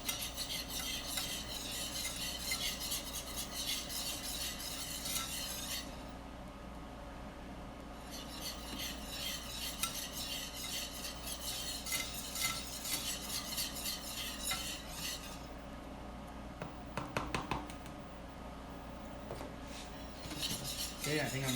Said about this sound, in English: I'm whisking. I'm going to add the flour a little bit at a time